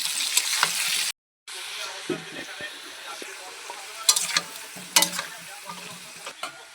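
Potatoes with turmeric and salt frying in a pan, a continuous sizzle with scraping stirs and occasional spatula clinks, close and moderately loud.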